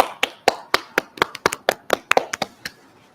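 A woman claps her hands in a small conference room at a radio station, with about a dozen sharp, close claps in a quick, slightly uneven rhythm.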